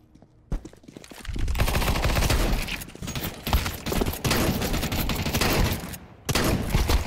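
Rapid automatic gunfire from the game Counter-Strike 2, dense sustained bursts after a brief quiet start, loud and close, with a short gap before another burst.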